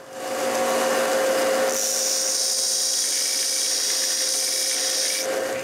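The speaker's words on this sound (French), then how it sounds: "Je polis donc un peu plus le laiton" Brass screws being polished and shortened on a power tool for small mahogany and maple boxes, a steady high whine with a brief lower grinding start, continuous and close.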